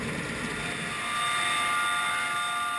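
A rescue helicopter hovers during a winch rescue from a boat, its steady broadband rotor and engine roar loud and continuous, with no voices.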